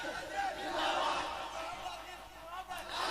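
An audience at a naat gathering chants slogans together in a sustained, rolling crowd roar that rises and falls, heard at a moderate distance and fairly quiet overall.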